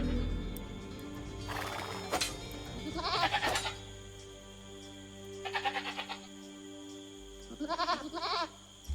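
Goats bleat in the Age of Empires II: Definitive Edition game in several separate short bursts of wavering cries over a steady low game ambience. A pause falls between each burst.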